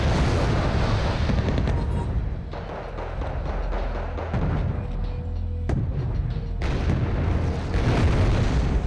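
Rocket salvos from an AH-1J attack helicopter in the Wargame Red Dragon strategy game, a dense run of loud booms and bursts layered over continuous battlefield rumble, with sharp impacts around the middle.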